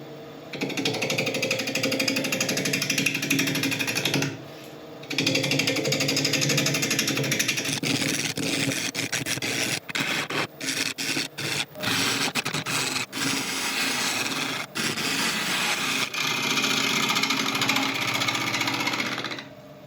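A wood lathe turns a natural-edge elm burl bowl as a tool flattens the base and cuts the sides, making a loud, continuous grinding rasp that briefly pauses and then breaks into choppy, intermittent scraping.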